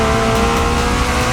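A McLaren Elva in The Crew Motorfest roars at steady speed, a dense, loud engine tone with some tire noise holding throughout the short burst.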